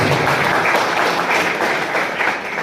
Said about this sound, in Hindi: उनके स्वागत के लिए जबरदस्त तालियों सम्मान हो जाएगा।